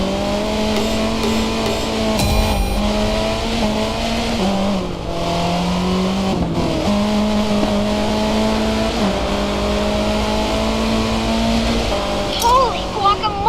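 Race cars in the Racing Master video game hum along steadily with engine drones and shifting revs, a continuous loud game mix beneath a speaking voice.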